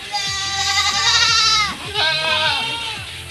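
Nubian and Nigerian goats on a homestead bleat loudly and close, several long wavering cries following one another with barely a pause.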